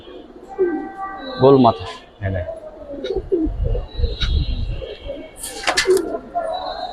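A round-headed pigeon cooing in soft, low bursts close by, mixed with a few brief chirps while someone talks over it.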